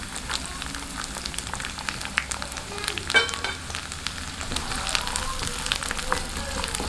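Garlic frying in hot oil with mustard seeds and split chickpeas for prawn thokku, a steady low sizzle with scattered crackles and pops and a brief stir midway, no talking.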